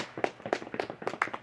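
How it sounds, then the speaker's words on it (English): Sparse, faint clapping from a small group at a pre-fight press conference, a handful of separate claps spaced out over a second and a half with no voices. "let's get a round of applause"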